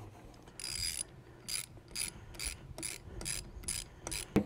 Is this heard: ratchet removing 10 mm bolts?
yes